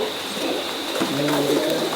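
Pigeons coo softly nearby, low throaty calls rising over a steady background hum.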